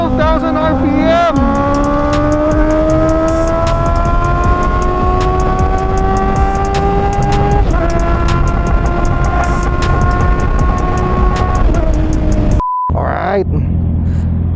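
A Honda CB650R motorcycle engine revs hard toward 12,000 RPM, loud and close, its pitch climbing steadily in sustained screaming pulls before cutting off sharply near the end.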